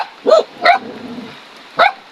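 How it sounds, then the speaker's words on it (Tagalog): A dog barks three times outdoors, two quick sharp barks close together followed by a pause and a single final bark, loud and near. "Tarang aso"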